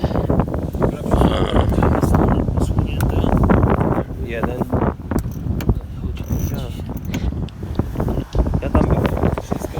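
Gusty wind buffets the microphone in a loud, continuous roar aboard a Grampian G2-34 34-foot sailboat, with occasional creaks and knocks of fittings and people talking throughout.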